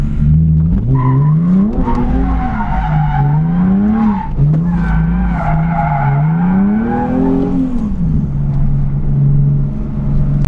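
A Nissan 370Z engine roars up close for about ten seconds, its pitch climbing and dipping repeatedly as the car is driven hard and slid, with a steady loud rumble underneath and no talking.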